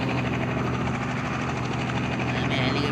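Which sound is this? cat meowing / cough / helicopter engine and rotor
helicopter engine and rotor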